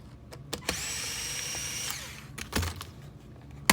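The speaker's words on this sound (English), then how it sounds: "Take these 2 screws here on this little cover plate, back them out" A power driver backs screws out of a small cover plate on a YMS unit, giving a steady high whine for about a second, a brief click, and a second short spin, close and fairly quiet.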